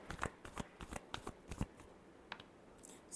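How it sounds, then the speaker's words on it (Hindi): Tarot cards shuffled by hand, a quick run of crisp riffling snaps and slaps in irregular bursts, close and fairly quiet, with no talking. "last shuffle"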